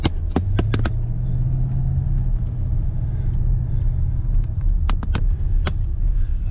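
Range Rover with a rough-running engine and delayed throttle response, driven on the road: a steady low rumble of engine and road noise throughout, broken by sharp clicks and knocks near the start and again toward the end.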